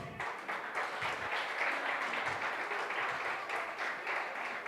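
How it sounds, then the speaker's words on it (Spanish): A church congregation applauds steadily, a dense wash of clapping that holds at an even level throughout without letting up. "Dele un aplauso al Señor."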